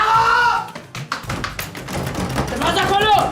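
Several sharp knocks land on a door in a quick irregular cluster, mixed in with loud voices talking.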